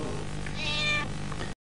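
A single cat meow rises briefly near the middle, moderately close, over a low steady background hum, with no voices.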